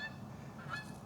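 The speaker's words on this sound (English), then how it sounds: "Oh, some geese flying by, 2 geese." Two geese honk as they fly past outdoors, a brief, faint run of nasal calls over a low background rumble.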